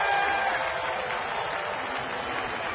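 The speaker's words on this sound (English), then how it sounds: "And the Bronx-type cheer," A large baseball crowd at a ballpark gives a sarcastic Bronx cheer, a dense sustained wash of voices and scattered clapping, steady and loud throughout.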